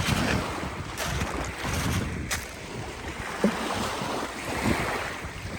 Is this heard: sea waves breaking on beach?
yes